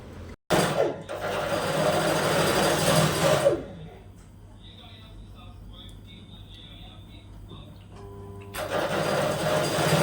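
A sewing machine runs in a loud continuous burst for several seconds, stops into a quiet stretch with faint background sounds, then starts up again near the end.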